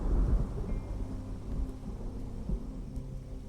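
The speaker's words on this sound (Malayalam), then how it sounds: "നല്ല മഴ വരുന്നുണ്ടല്ലോ." Heavy rain with thunder gives a steady, dense wash of rainfall over a deep, continuous rumble, loudest at the start and holding without pause.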